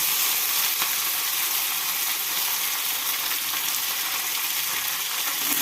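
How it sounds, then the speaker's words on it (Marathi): Cumin seeds and curry leaves sizzle in hot oil as a tempering for idli chutney, a loud, even, close hiss that continues without a break, with no talking. "जिरे तडतडायला लागले की त्याच्यामध्ये मी थोडी कडीपत्त्याची पानं टाकणार आहे आणि कोथिंबीर टाकणार आहे"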